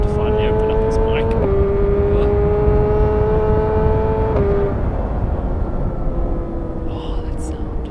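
BMW HP4 Competition motorcycle engine revving up through gears, a strong steady drone stepping up in pitch at each shift before easing off, loud and close with heavy wind noise.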